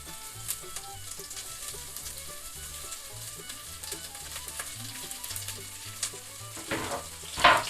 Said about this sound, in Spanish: que se fría un poquito todo junto, cebolla y el ajo